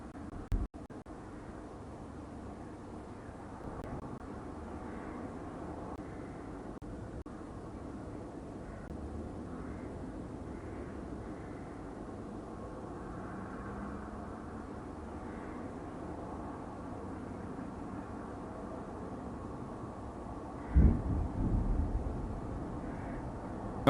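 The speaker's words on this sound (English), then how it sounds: "that's probably like a jet" Jet aircraft flying overhead above Kyiv, a faint steady distant roar that lingers for about twenty seconds with a brief louder rumble near the end and no talk.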